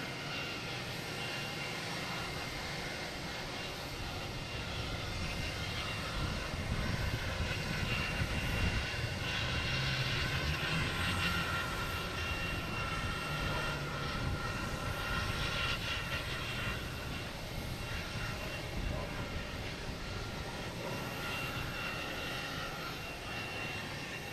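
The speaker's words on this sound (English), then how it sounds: "next takeoff is Delta heading to Denver. A321neo." A Delta Airbus A321neo jet taking off at Logan Airport, a sustained broadband engine roar that builds and holds loudly for the whole span before easing slightly, heard from a fixed spot with no voices.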